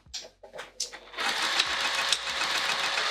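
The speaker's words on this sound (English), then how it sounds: "let me just take one more pass at the sewing machine" A sewing machine stitches a fabric bag, starting with a few short stop-start bursts and then settling into a steady, close, continuous whir, with a voice talking briefly at the start.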